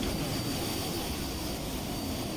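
A P-51 Mustang's piston engine heard from outside the aircraft in Microsoft Flight Simulator 2020, a loud, steady, dense roar that holds unbroken throughout with no talking.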